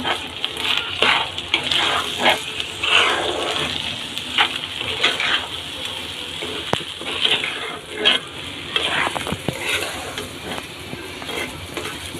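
Food frying and sizzling in pans on two stoves, with a spoon stirring and scraping steadily throughout, close and fairly loud, no talking.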